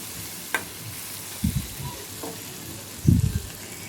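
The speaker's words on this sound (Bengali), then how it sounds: "এখন এই যে এক পাশ উল্টিয়ে নিলাম, একটু লাল করে ভেজে নিতে হবে।" Chicken breast pieces for a snack fry in a pan with a faint background sizzle, broken by a few close knocks and scraping stirs of a spatula as they are turned.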